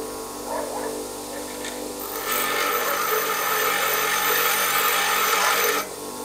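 A bench grinder's abrasive wheel being dressed in a workshop, a steady gritty grinding whir that swells louder after a couple of seconds and holds close and continuous before easing off near the end.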